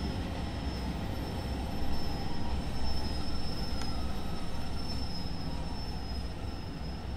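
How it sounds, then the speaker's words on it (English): A Northern Class 150 diesel train in the video game Train Sim World 2 rumbles along steadily, with rolling wheel noise, a high thin squeal and a slight swell in loudness midway. "I'm going to put the front of the train at the end of the platform."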